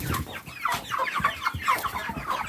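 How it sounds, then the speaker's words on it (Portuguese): Semi-free-range broiler chickens cluck continuously and close by on a poultry farm, a dense, overlapping chorus of short clucks with no one talking. "Mostrando aqui esses frangos."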